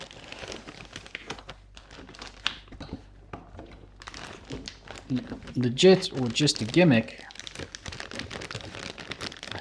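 Someone tears and crinkles open a plastic bag of Aldi potato spirals, with bursts of loud rustling and ripping between and under their talking.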